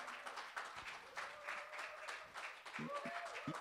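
A church congregation applauding during a worship service, steady dense clapping with voices and singing mixed in throughout.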